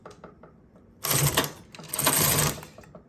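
A knitting machine working rows: faint soft clicks at first, then two loud rasping carriage sweeps back and forth, each with a mechanical clatter, and no talking.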